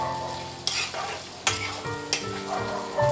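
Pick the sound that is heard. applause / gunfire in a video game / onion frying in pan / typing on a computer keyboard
onion frying in pan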